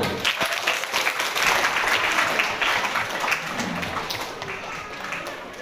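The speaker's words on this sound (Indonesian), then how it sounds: "Ya, tepuk tangan dulu." Students at a basic leadership training camp at a madrasah in Tanjung Jabung Barat applaud together, a dense, steady clatter of many hands that fades gradually toward the end.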